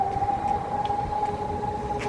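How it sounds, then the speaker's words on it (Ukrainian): An air raid siren wails over the center of Kharkiv, a steady sustained tone holding on throughout, loud and clear over faint street noise. "І вийшли з занять і повітряна тривога."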